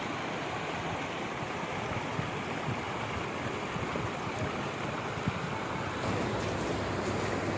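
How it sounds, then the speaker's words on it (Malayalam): Floodwater in Oman surges past as a steady, broad, rushing roar with low rumble and wind buffeting. The flow stays loud and close throughout and grows slightly brighter near the end. No voices are heard. "ഇത്രയും വലിയൊരു വെള്ളപ്പൊക്കം ആദ്യമായിട്ടാട്ടോ ഇവിടെ."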